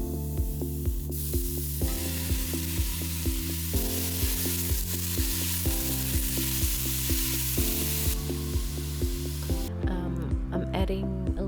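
Thinly chopped pork frying and being stirred in a pan for jjajangmyeon, a steady sizzle under a loud, rhythmic musical backing with repeated beats, the frying partly masked.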